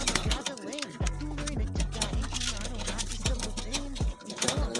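Freshly bathed pet pigeons under treatment for respiratory disease coo repeatedly at close range in a rhythmic series of low, rolling calls, with light clicking and shuffling in between.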